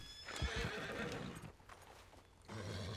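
A horse in Red Dead Redemption 2 whinnies loudly with a shrill, drawn-out neigh, followed by hoof clip-clops and a second burst of agitated noise near the end.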